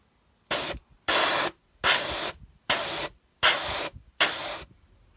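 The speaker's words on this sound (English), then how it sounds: "I'm going to put the airbrush at an upward angle so that I can miss this top edge" An airbrush sprays weathering paint onto a model railway stone quarry in six short, even bursts of hissing air, each about half a second long with brief silences between, close and clear.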